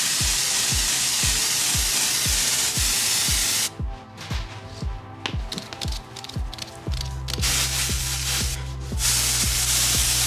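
Temporary hair dye spray hisses from a can in steady bursts, cutting out partway through and then resuming, close and fairly loud over a faint rhythmic ticking in the background.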